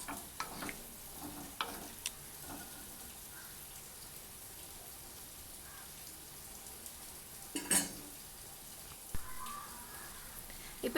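Coconut milk being stirred into bitter gourd curry in a hot pan, with quiet scraping and stirring strokes over a low simmering hiss, a few louder clatters of the spoon against the pan.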